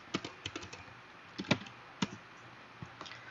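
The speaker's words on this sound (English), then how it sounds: "Just type show VTP status." Sparse keystrokes on a computer keyboard as a switch command is entered during a VTP network configuration, a handful of quiet separate taps and short clusters, close and with no talking.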